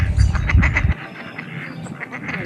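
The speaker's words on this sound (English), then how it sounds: "Listen to the mallards. They're talking to each other out there." Mallard ducks quacking out on the water at a park, several loud, close calls in a quick cluster that then drop away to softer, more distant quacks.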